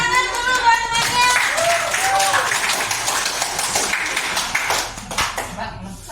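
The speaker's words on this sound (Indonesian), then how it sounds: "beri aplaus tangan dulu buat temannya" An audience claps for a presenter at an Indonesian school event: a dense patter of hand claps swells after a voice, holds for several seconds, then fades as talking resumes.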